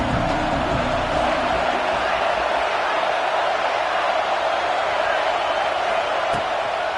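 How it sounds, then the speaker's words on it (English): A packed college football stadium crowd at a UNR game roars steadily to rattle the offense, a loud, dense wash of cheering and shouting that holds for the whole stretch with no pauses. "This crowd trying to make life miserable for this offense."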